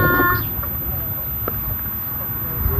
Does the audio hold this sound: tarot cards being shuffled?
no